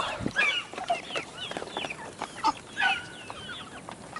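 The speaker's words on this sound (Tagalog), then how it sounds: "ang pagkain ng ating mga manok" Chickens cluck and chatter busily while feeding, a continuous jumble of short calls, some close and some farther off, with faint scratching and movement underneath.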